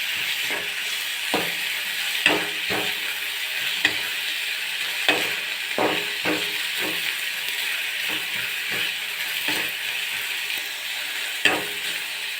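Onions sizzle in a pan while being browned for egg curry, a constant bright hiss with a dozen or so sharp scraping stirs at irregular intervals, close up and without speech.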